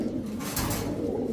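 A female giribaj pigeon with red-eyed markings coos steadily nearby, a low continuous throaty murmur amid other birds in a busy loft.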